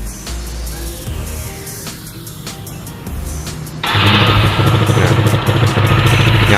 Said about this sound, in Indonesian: Jadi ini karbu PWK nya stasioner, langsung, enak.